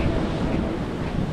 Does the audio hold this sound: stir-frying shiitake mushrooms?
no